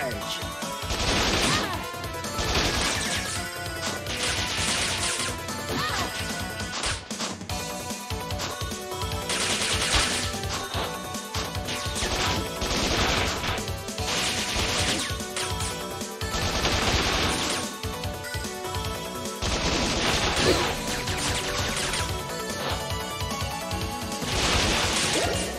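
Rocket launcher fire and impact crashes in the action video game Bot Vice, with loud repeated blasts and rapid gunfire-like bursts layered over constant busy game noise and music throughout.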